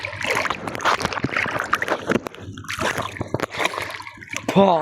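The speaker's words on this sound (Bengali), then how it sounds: "এই যে বড় ঢেউ আসতেছে।" Big sea waves slap and splash against a launch in loud, irregular bursts over rushing water, with people shouting and talking throughout.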